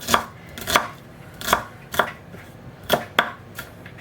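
Knife strikes on a cutting board as an onion is finely chopped for toasted sandwiches, a close series of about eight crisp, irregular chops with no voices.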